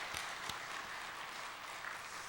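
Church congregation applauding during a Sunday service, a faint, dense wash of clapping that runs steadily across the short span with a few sharper individual claps near the start.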